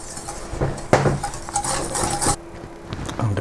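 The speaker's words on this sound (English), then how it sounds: "Now we need to whisk the egg" Egg and sugar being whisked by hand in a bowl for a chocolate fondant, with a whisk scraping and clinking against the bowl in quick irregular strokes, close and alone.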